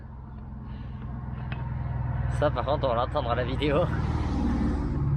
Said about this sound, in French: Un petit V8 ça mérite d'être entendu quand même.